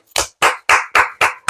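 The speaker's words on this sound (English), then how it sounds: "I had to give these motherfuckers a hand clap." Six sharp hand claps at an even, steady pace, loud and close, with nothing else sounding between them.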